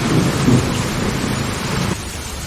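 Heavy rain pours down steadily on Mount Tangkuban Perahu as thunder rumbles low during a storm, a dense hiss that drops slightly toward the end, with no voices.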